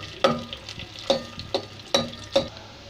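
Onions frying in oil and ghee sizzle steadily while a utensil scrapes and stirs the pan in about five distinct strokes.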